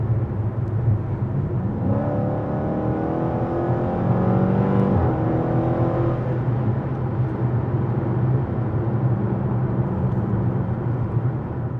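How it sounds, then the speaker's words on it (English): A Dodge Challenger R/T Scat Pack Wide Body rumbles with a deep exhaust note, revving up in a rising sweep before settling back to a steady, throaty drone. "that exhaust note will definitely help you draw attention of anyone within a mile radius"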